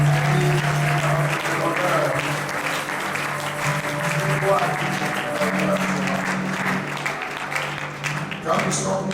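A church congregation claps and acclaims in sustained, dense applause that stays loud and steady throughout, with a voice carrying over the clapping.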